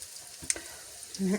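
Soft, steady sizzling of potato pancakes frying in a pan, with a few small pops and a brief low thump near the end.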